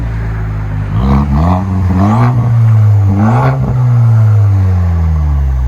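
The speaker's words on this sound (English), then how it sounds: "So much deeper. 4-cylinder Silverado." A Chevy Silverado with a 2.7L turbo four-cylinder and straight-pipe exhaust revs loudly up close, its deep drone rising and falling through several throttle blips with no talking.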